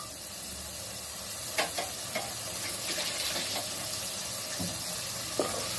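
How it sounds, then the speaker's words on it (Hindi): Ginger garlic paste sizzles and fries in a pan for a Kokani-style wedding mutton salan, a steady hiss with occasional stirring scrapes and clinks, fairly quiet and close, with no speech. "यहाँ पर अभी अदरक लहसुन भी डाला। इसको अच्छे से हम लोग पहले भून कर लेंगे।"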